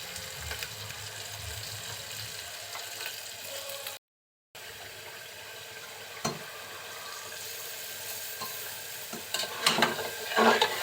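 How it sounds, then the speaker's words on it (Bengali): Spices sizzle and fry in hot oil for a pressure-cooker duck curry, a steady low hiss with occasional stirring clatter and a brief louder burst near the end, no voices. "সব মশলা অ্যাড করে আমি তেলের সাথে একটু কষিয়ে নিব"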